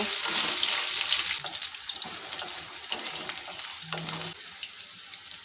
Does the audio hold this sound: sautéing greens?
yes